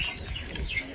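Pigeons making soft cooing and chirping calls close by during a morning feeding, brief and steady with no talking.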